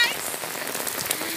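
Rain falls steadily, a dense, even hiss of drops spattering on a surface, close and continuous with no voices over it.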